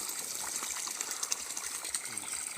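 Water gushes and splashes steadily in a fruit orchard, a continuous close, hissing flow with no talk.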